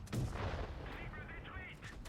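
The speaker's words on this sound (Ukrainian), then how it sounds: "Ловимо ще один постріл від супротивника." A heavy cannon-like gunshot from an enemy tank booms in World of Tanks Blitz, followed by a rumbling tail and faint whistling effects as the echo fades.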